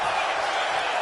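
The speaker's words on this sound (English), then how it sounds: "He's pumped up, and so is this crowd." A steady, loud roar of an arena crowd in the WWE 2K25 wrestling game, continuous and broadband throughout with no distinct claps or breaks.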